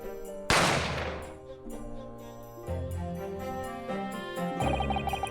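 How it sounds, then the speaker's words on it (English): Sharp gunshot in the video game The Great Ace Attorney Adventures, a single sudden crack that rings out and decays over sustained dramatic music with tonal, chiming layers. "I didn't have time to think about where the sound of the gunshot had come from."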